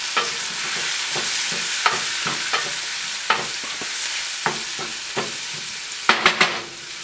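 Thyme, rosemary, butter and garlic stirred in a hot pan, a continuous bright sizzle with a run of regular spoon scrapes and a quick cluster of clinks near the end, close by with no speech.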